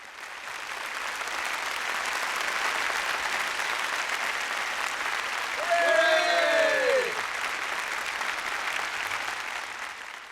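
Sustained applause from a university awards audience honoring faculty for 40 years of service, dense and steady throughout, with a voice briefly speaking over it midway.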